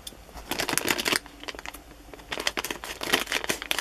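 A plastic blind bag package being opened up close, with bursts of crisp crinkling and rustling plastic coming in uneven clusters, loud and alone without talk.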